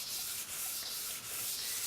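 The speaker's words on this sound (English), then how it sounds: "400 grit wet dry sandpaper. Just get a little bit of water on it" A sword blade is wet sanded by hand with 400 grit wet/dry sandpaper and a little water, giving a steady soft rasping rub with faint regular back-and-forth strokes, close up and alone.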